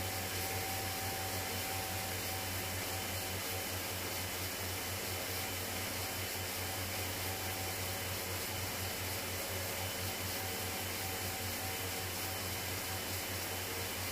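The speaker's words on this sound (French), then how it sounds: "j'ai 2 gros ventilos là" Two large electric fans run together with a continuous, even whooshing hum that stays fairly faint and never changes throughout.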